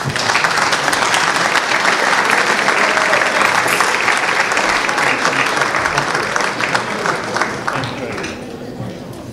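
A hall full of guests at a police awards and solidarity gala claps loudly and steadily, a dense sustained applause that thins slightly toward the end, with an announcer's voice over it.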